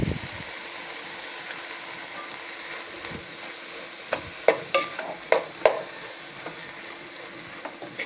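Tomatoes and onions fry in a pan with a constant soft sizzle, while a utensil stirs through them with a short run of scraping taps partway through, close and unaccompanied by speech.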